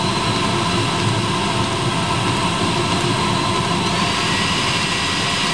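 A 35-year-old Eberspacher diesel heater runs with a steady, loud roar of fan and combustion, a broad continuous rushing noise without pauses, heard close and alone.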